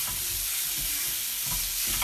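Pork and vegetables stir-frying for pork bokkum in a hot pan, a loud, continuous hiss and crackle right up close, with soft utensil scrapes and stirring bumps breaking through now and then.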